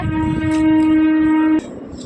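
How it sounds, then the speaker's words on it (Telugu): A loud, steady train horn blares close by over low rumbling, then cuts off abruptly, leaving a fainter rolling rumble. "ట్రైన్ ట్రైన్ సౌండ్ డిస్టర్బ్ చేస్తుంది"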